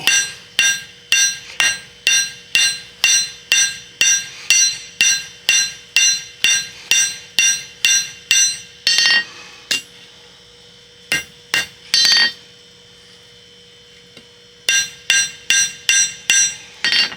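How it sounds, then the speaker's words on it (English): A blacksmith's hammer rings against metal on an anvil in a fast, even series of sharp clanging blows, pausing briefly midway, then resuming the rhythmic strikes. "The face of your hammer is half on the anvil and half off of it."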